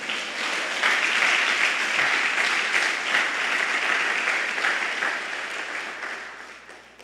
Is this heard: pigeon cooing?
no